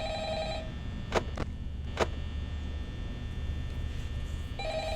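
An electronic phone ring in the video game Five Nights at Freddy's sounds at the start and again at the end, with a few sharp clicks between, over a steady droning hum.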